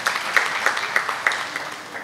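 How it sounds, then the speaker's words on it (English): An audience at an accounting institute conference applauds, producing a brief, even wash of clapping with soft rhythmic peaks. "a big round of applause for each one of us to come forward"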